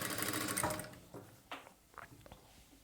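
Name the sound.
sewing machine stitching a blouse hem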